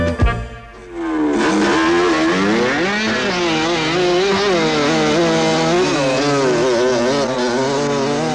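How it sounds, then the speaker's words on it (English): Motorbikes ride around a suburban area in Australia, giving a loud, continuous engine drone that rises and falls as they rev and cruise nearby, with no talk. "I guess from time to time they've heard the noise of bikes and children running around"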